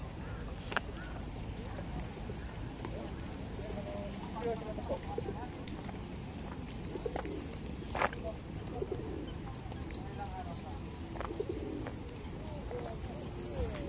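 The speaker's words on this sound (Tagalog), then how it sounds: "Grabe, ang dami ng kalapati, oh." A crowd of pigeons coos and flutters outdoors in Otaru, Hokkaido, Japan, amid steady background noise, with occasional sharp clicks and distant voices.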